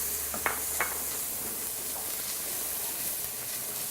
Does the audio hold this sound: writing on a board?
no